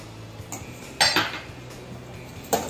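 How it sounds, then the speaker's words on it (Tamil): A spoon stirs semolina and sugar in a metal pan on the stove for pineapple kesari, giving a few scattered clinks and scrapes against the pan over a quiet background. "அதனால நல்லா வேகமாக கிளறி விடணும்."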